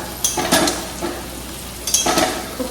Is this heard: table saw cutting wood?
no